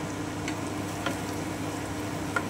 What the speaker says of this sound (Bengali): এবারে আমি হিং আর সাজিরেটা দিয়ে দিচ্ছি। আমি একটু নেড়ে নিচ্ছি।